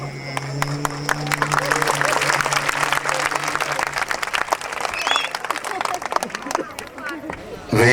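An audience at a riverside performance breaks into sustained applause for the singer, dense clapping that swells and holds for several seconds before thinning out, with crowd murmur and a voice underneath.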